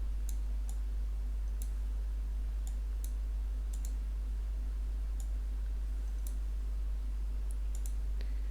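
Scattered sharp computer mouse clicks, some in quick double pairs, while customizing Windows 11, faint and close over a low steady hum, no speech.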